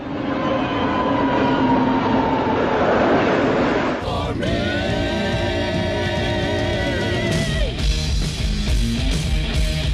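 A train rolls along a railway track, a steady rumble with clickety-clack that shifts midway as wheels squeal and carriages pass close by in a film scene.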